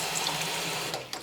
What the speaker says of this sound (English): I'm just going to fill that up with just tap water